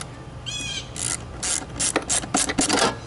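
A ratchet clicks in several quick bursts while fitting 1 1/4 inch bolts to line up a plate on a Jeep Wrangler YJ during a heater core and blower motor swap, close and fairly loud with no talking.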